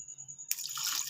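Water is poured into a pot of tinda gosht, a sudden bright splashing gush that starts after a quiet moment with a faint steady hum and continues to the end.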